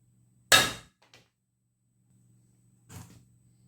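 A walking cane is struck twice in an impact test: one loud, sharp knock, a faint small tap after it, then a second softer hit about two seconds later over a low steady hum.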